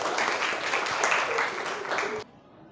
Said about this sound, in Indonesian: Tepuk tangan untuk kelompok 1